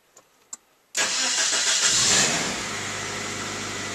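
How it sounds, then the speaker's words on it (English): A 1995 Suzuki Sidekick engine cranks and fires up after a couple of faint clicks, catching abruptly into a loud rev that settles to a steady, slightly quieter idle, with no talking. "we'll see if this car will start"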